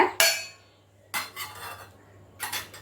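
Paneer pakoda ingredients with coriander and curry leaves being tossed together in a bowl, giving three short bursts of clinking and scraping against the dish, one sharp near clatter at the start, then two softer ones.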